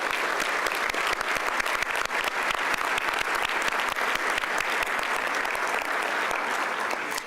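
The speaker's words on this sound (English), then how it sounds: "So please join me again in a big round of applause." A large audience at an annual Latinos Unidos celebration gives a sustained, steady round of applause, dense and even throughout with no talk over it.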